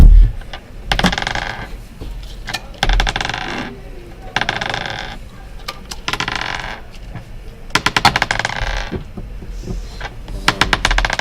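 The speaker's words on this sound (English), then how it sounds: "Stop messing with my weighted dice." Weighted dice clatter and rattle in repeated bursts during a tabletop game, sharp close rolls separated by short pauses, with rapid clicking runs near the end.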